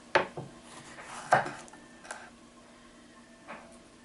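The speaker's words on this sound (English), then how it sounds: "So I'm just gonna chop these like so." Knife chopping tomatoes with the hard core cut out on a cutting board: a few sharp separate knocks, loudest near the start and middle, then a fainter one, close by and quiet with no talk.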